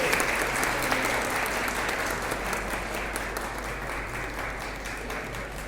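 A crowd claps steadily at a school Republic Day event, a dense, even wash of applause that holds at a constant level throughout without fading.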